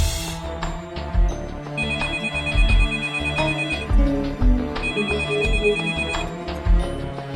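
Mobile phone ringtone playing a repeating electronic melody, clear and steady for several seconds with no talk over it.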